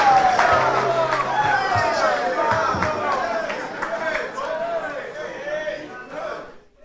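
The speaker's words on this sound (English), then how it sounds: "A round of applause," Audience applause at a student debate introducing the first speaker, a scattered clapping crowd with cheering and loud overlapping chatter that fades out toward the end.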